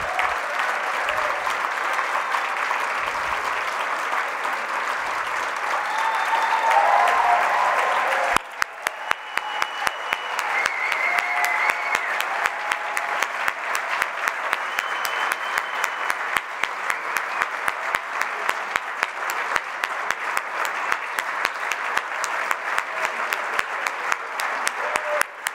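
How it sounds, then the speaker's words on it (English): An audience at a benefit dinner claps steadily, a dense run of applause that swells partway through and then carries on with crisp, even hand claps. "So please give her a round of applause."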